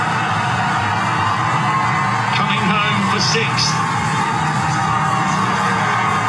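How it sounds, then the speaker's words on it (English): Crowd at the finish of the 2022 Commonwealth Games marathon in Birmingham, a dense roar with whoops and cheers rising as a runner approaches, a commentator talking over the noise. "Crowd responding"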